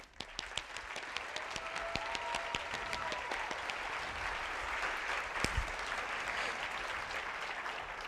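A large conference audience applauds to welcome a keynote speaker, dense sustained clapping that carries on for the full stretch with a few sharper individual claps standing out.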